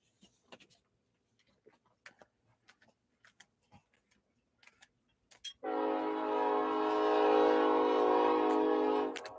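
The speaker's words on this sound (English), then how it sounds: "Yes, that's a train." A train passes nearby, rising suddenly into a loud, sustained rumble with a steady horn-like tone that holds for several seconds after scattered faint ticks and clicks.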